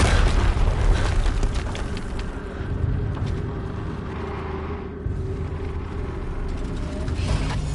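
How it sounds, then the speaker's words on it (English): A deep, rumbling explosion in the video game Horizon Zero Dawn, a loud, sustained roar of blast and debris that fills the whole stretch and swells again toward the end. "Another explosion."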